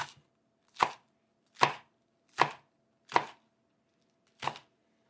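Knife chopping green onions into thin slivers on a cutting board for a nachos garnish: five crisp, evenly spaced chops standing out clearly against near silence.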